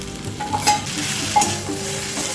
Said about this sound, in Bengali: এর মধ্যে এবার দিয়ে দেবো আমি এই উচ্ছে বাটাটা